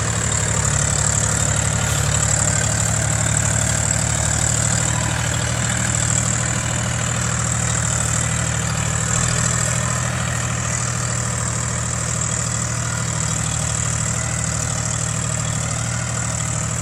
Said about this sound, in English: we're pulling this with the John Deere 5300 that we have